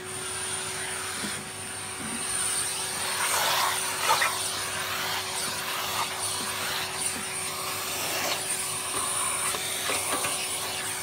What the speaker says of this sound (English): Let me just give this a quick vacuum out.